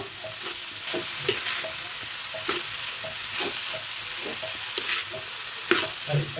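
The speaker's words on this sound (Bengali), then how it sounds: "তেলের ভিতরে শাকটা দিয়ে দিয়েছি এখন আমি শাকটা নাড়াচাড়া করে নেব" Leafy greens stirred into hot oil with browned onions, a steady close sizzle broken by repeated scraping and clattering strokes of a spoon in the pan, with no voices.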